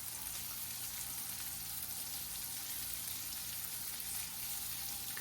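Hot dogs fry in a pan, a steady, even hiss and crackle of sizzling fat that stays constant and close without pause or voices.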